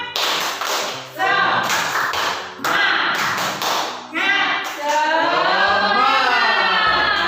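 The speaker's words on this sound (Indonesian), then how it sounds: "mari kita melakukan tepuk semangat terlebih dahulu" Group rhythmic clapping of a tepuk semangat cheer, several bursts of claps in patterned rhythm, close and loud, alternating with voices chanting or talking between them.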